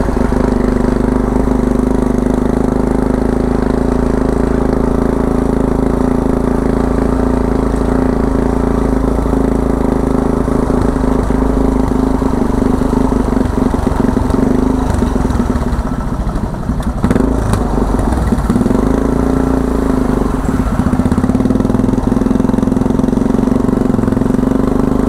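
A kulong-kulong motorcycle with sidecar runs continuously during a ride, a loud, close, steady engine drone with brief rattles and bumps partway through before it settles back into an even hum.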